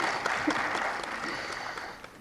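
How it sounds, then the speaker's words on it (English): An audience at a higher-education discussion festival applauds a speaker, a steady, moderately loud patter of clapping hands across a full hall, fading slightly near the end. "please give her a round of applause."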